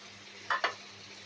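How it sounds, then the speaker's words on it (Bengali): A paste of ginger, garlic, onion and cumin fries in a pan under a faint steady sizzle. Two quick, louder scraping stirs break through close together. "আদা রসুনের গন্ধ যাওয়া পর্যন্ত এটা ভেজে নেব।"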